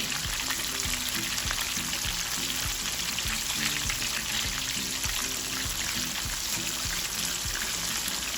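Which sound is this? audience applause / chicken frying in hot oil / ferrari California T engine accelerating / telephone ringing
chicken frying in hot oil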